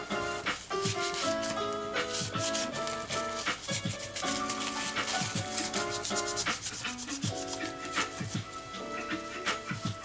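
Parts of a Hi-Capa airsoft pistol's blowback housing being rubbed and wiped to strip off grease, steady close scrubbing strokes over a faint musical background.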